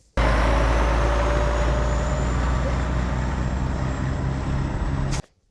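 A truck engine rumbles steadily and loudly for about five seconds, a deep idling drone with a faint whine above it, stopping abruptly at the end.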